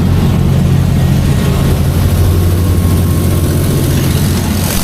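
A 200 kW generator running at full load drones loudly and steadily with a deep, constant hum, running hard without pause.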